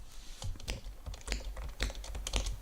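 A computer keyboard is typed on close up in a quiet room, a rapid run of crisp clicks and key thumps in irregular bursts, with no talking.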